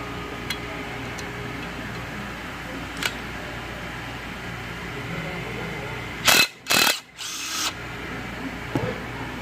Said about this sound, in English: So we have to remove the oil injectors or oil squirters, because it's gonna be honed.